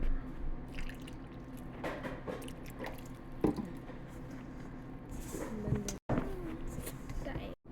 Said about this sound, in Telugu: కొన్ని కొన్ని వాటర్ పోసుకుండా కలుపుకుందాం